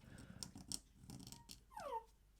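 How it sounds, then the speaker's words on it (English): A dog gives a short, high, squeaky yawn that slides downward in pitch, close by, after some soft shuffling and clicking sounds. "And that's my dog yawning."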